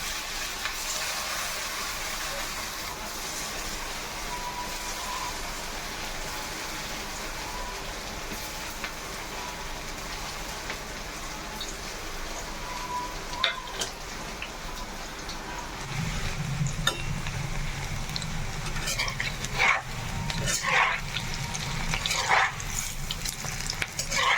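Balls of puffed rice and gram flour fry in hot oil, a steady close sizzle and crackle that swells louder and fuller in the last third.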